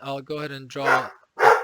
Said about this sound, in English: sorry about my dog. Sometimes he scares me too.